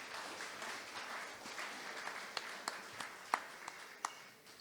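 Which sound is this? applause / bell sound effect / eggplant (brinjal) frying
applause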